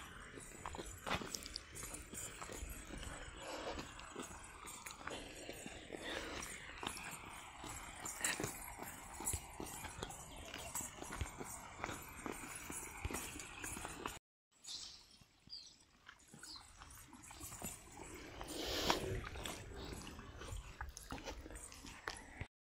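A cow walking away on a farm, its hooves making faint, irregular clopping steps over the ground, quiet and somewhat distant, with rustling around and no clear talk.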